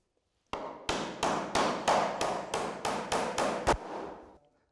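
A hammer drives a roof batten onto timber rafters in about eleven sharp, evenly spaced blows, each ringing briefly before the next, loud and close with no voices.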